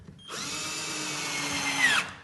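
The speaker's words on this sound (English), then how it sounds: "And you just put them in and take your drill." A power drill drives screws into a wooden balance board, one steady whirring run of almost two seconds that rises slightly in pitch near the end before stopping, close and loud with no talk.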